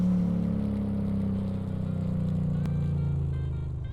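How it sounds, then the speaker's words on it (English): Car engine in the Car Mechanic Simulator 26 demo, a steady loud droning hum with low rumbling tones held throughout, with a faint brief whir layered on top. "You can hear the turbos."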